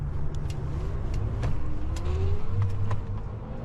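Heybike Ranger electric bike climbing a long hill on pedal assist level 3, a steady motor whine rising gradually in pitch under loud wind noise, close and without talking.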